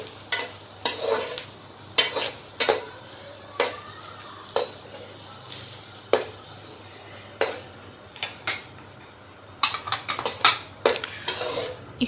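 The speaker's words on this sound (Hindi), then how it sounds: "तो हम इसे थोड़ा सा मसाला जात को भी थोड़ा सा भून लें।" Whole spices sizzling in oil in a pot for chicken biryani in a small kitchen, stirred with a metal spoon that scrapes and clinks against the pot in repeated bursts over a steady low frying hiss, with no talking.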